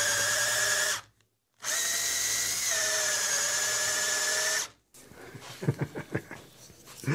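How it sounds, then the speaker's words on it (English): A power drill drives sawn wooden stock through a hole to form dowels, its steady high whine running in two long bursts separated by a short pause, then giving way to rougher knocking and scraping as the wood is forced through. "use the drill to drive some sawn stock through the hole"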